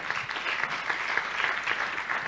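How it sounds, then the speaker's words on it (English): Conference audience applauding its speakers at an evidence summit session, a steady, moderately loud round of many hands clapping with slight swells, no voices over it. "let's give a final round of applause to our speakers"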